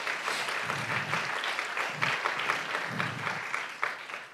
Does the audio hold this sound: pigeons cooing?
no